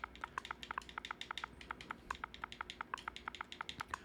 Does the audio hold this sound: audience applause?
no